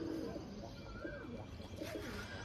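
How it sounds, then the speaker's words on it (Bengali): Short-sized pigeons offered for sale coo softly and low, a faint, continuous warbling murmur of a few birds with no talk over it. "খুব সুন্দর কোয়ালিটি দেখে নিতে পারেন, শর্ট সাইজের একদম পায়রা আছে।"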